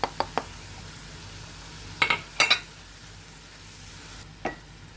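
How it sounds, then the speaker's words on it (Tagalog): A utensil stirs partially cooked shrimp and seasoning in a pan, giving a few sharp scraping clicks over a soft, steady sizzle, with short bursts of stirring in quick clusters. "Mix a little bit and add our seasoning."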